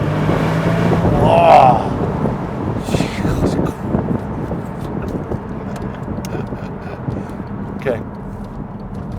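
A 2009 black Porsche 911 Turbo pulls away hard in first gear, engine roar and wind rush loud and steady from inside the car, with a brief exclaimed voice near the start.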